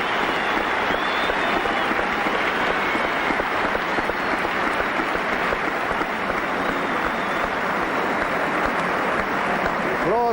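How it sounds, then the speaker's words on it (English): A cricket crowd applauds Graham Pollock reaching his fifty, a dense, sustained roar of clapping filling the ground with steady intensity throughout. "Applause for Graham Pollock"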